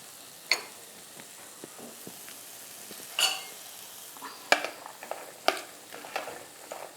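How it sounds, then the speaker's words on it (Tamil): Salad ingredients with lime being tossed and mixed in a bowl make scattered soft clicks and scrapes of a spoon against the bowl, spaced irregularly over a quiet background. "இதெல்லாம் ஒன்றா சேர்கிற மாதிரி நம்ம மிக்ஸ் பண்ணிக்கணும்."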